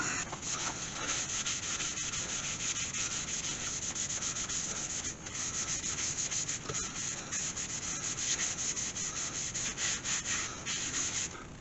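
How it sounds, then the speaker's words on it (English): Sandpaper rubs steadily against a turned walnut vase spinning on a wood lathe, a continuous close, loud hiss with slight rhythmic pulsing, no voices over it. "now let's reveal gorgeous grain in that walnut"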